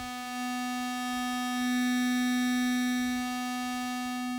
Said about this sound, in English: So right now it's just a sine wave oscillator.